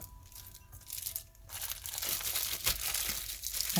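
Plastic fold-top sandwich bags crinkle and rustle loudly and close up while frozen raw dog food is portioned into them, a continuous crackling that swells in the second half.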